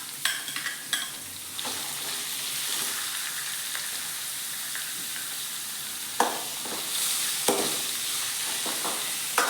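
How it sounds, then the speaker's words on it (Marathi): Soaked lentils being sautéed with crushed garlic and green chili paste in a pan, a steady close sizzle and frying hiss with sharp stirring scrapes near the start and a few more toward the end. "डाळ चांगली परतून घ्यायची आहे बघा."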